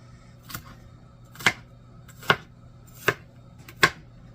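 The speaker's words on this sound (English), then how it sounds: "we're going to chop up the onion" A knife chops through a red onion on a cutting board: five crisp, evenly spaced chops, close and distinct against a quiet background.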